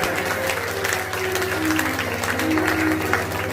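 Devotees at a women's group devotional program clap together in a steady, dense wash of applause lasting several seconds, with a low humming drone from the sound system underneath.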